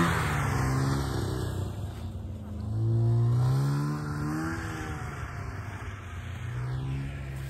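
A car engine revs and strains while driving up a snow-covered mountain road in Spiti Valley during heavy snowfall, a steady droning engine note rising and falling in pitch with one louder surge, faint voices underneath.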